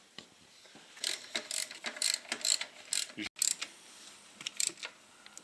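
A ratchet wrench turns in quick bursts of close, metallic clicking as gearbox bolts are tightened on a VW Passat B7 during a clutch replacement, with short pauses between strokes.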